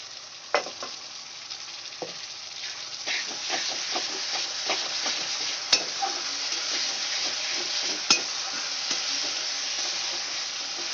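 Tomato puree stir-fried into a ginger-garlic masala, giving a steady mid-level sizzle with repeated scrapes and clinks of a spatula against the pan, no voices.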